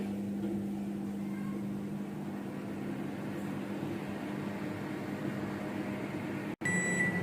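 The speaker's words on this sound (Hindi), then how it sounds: "माइक्रोवेव को हम प्री हीटेड होने के लिए रखते हैं" A steady low electrical hum from a microwave oven preheating to 180 degrees Celsius runs for several seconds, then a brief click cuts it off and the hum resumes with a faint high tone.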